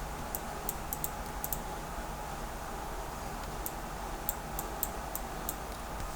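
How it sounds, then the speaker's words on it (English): Bracket keys tapped on a computer keyboard while texture painting a sword in Substance Painter: sparse, crisp, faint clicks in small clusters over a steady low room hum, with no talking. "all I could do is just use my bracket key on my keyboard"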